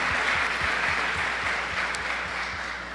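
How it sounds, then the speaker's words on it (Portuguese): A congregation at a church family conference claps for a family, dense sustained applause from a large crowd filling the whole stretch, loud and even with a low rhythmic thump underneath. "Vamos dar uma salva de palmas para essa família tão maravilhosa?"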